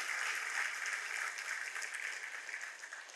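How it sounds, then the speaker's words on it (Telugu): Audience applauding together at a motivational talk, a steady dense burst of clapping that holds for several seconds. "అవ్వాలనుకునే వాళ్ళందరూ మనస్ఫూర్తిగా గట్టిగా చప్పట్లు కొట్టండి ఒకసారి"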